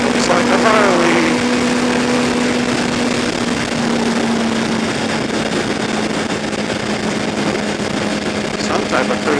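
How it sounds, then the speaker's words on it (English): A cruiser motorcycle engine runs nearby on a morning ride, a steady droning hum with a low tonal note that holds at a constant level, mixed with wind and road noise throughout. "There's a bike up here. What's he riding? Looks like a Harley."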